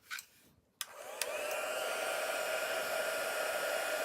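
Heat tool used in card making switches on with a couple of clicks and then blows a steady, loud stream of hot air, a constant whirring hiss held close by.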